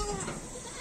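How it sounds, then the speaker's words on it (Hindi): Young kids of a local Hyderabad desi goat breed give a brief, close bleat that quickly fades into a background of faint rustling and murmur. "हमारे हैदराबाद की जो लोकल ब्रीड है, देसी बकरियों की जो ब्रीड है"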